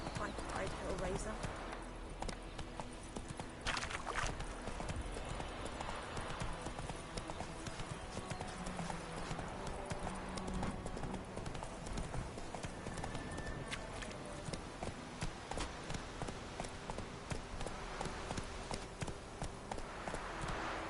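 Roach, a horse in the video game Witcher 3, gallops with steady, rapid hoofbeats running throughout, while someone talks over the game sound.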